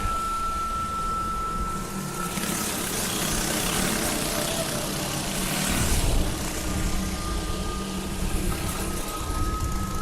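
Go-kart engines race in a tight pack at a 2005 fall series event, a continuous buzzing drone with a high whine that swells as karts pass nearby, with no talking.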